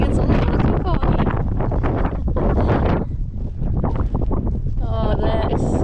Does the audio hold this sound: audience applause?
no